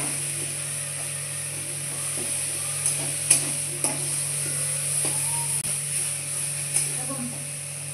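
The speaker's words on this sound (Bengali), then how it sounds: "এখন আমি দিয়ে দেবো জল।" Spices frying in a pan for a silver carp curry as water goes in: a steady, close sizzle broken by a few sharp stirring clicks.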